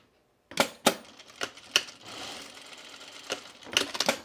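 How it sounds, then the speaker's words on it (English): A sewing machine top-stitches a pullover camp dress in several short runs, its rapid mechanical stitching starting and stopping with sharp clicks between bursts, close and clear with no talking. "I'm going to top stitch this down"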